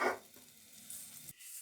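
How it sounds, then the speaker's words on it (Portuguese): Butter sizzles in a hot pan for Japanese batayaki, a soft steady frying hiss after a brief louder burst at the start, quiet and close with no talking. "Com a panela quente, é só adicionar a manteiga, passar em toda a panela"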